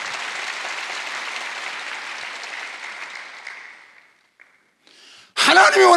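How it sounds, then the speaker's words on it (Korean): A church congregation at a Wednesday worship service applauds steadily for several seconds, the clapping thinning and dying away before a voice begins. "박수하세요."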